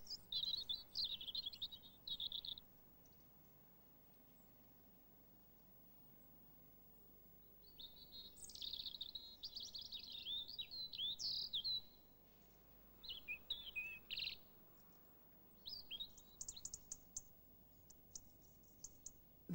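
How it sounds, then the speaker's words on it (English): Neighbouring robins sing in a song duel, bright high warbling phrases trading back and forth in separate bursts with quiet gaps between, clear and fairly close in a calm garden. "And neighbouring robins may be heard having song duels."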